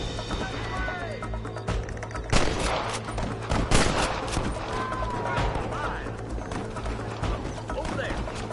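Gunfire in the Western video game Red Dead Redemption, several sharp shots crackling through a busy, continuous game soundscape of hoofbeats and ambient noise, moderately loud and close.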